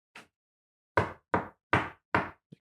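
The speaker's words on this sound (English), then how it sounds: "Now if you tapped it with your fingers, it would just sounds like you're knocking on a door." Fingers tap stiff gelled hair, giving one light tap followed by four sharp, evenly spaced knocks like rapping on a door, close and clear, then a faint final tick.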